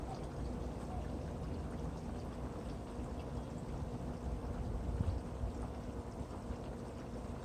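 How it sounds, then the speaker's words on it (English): Water drains from the gray tank cleanout valve of a Casita travel trailer, a steady rushing pour that holds at an even level for the whole stretch with a slight surge near the end. "I'm going to open this valve, and it's going to release all the water that I've added to the gray tank."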